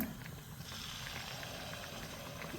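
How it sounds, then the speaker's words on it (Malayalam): Soft, steady bubbling sizzle of jackfruit unniyappam batter poured into hot oil, a faint crackling hiss throughout with no talking. "ഉണ്ണിയപ്പം കോരി ഒഴിക്കാൻ പോവുകയാണ്"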